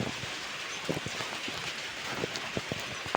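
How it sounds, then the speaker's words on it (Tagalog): Steady, heavy rain pours down in Pangasinan, Philippines, in a dense hiss, with scattered louder drops and patters striking nearby surfaces. "ang lakas ng ulan dito sa amin sa Pangasinan."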